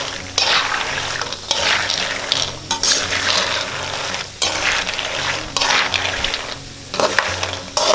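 Peanuts fry in hot oil in a pan, a steady sizzle broken by repeated scraping stirs and short pauses, close and fairly loud throughout.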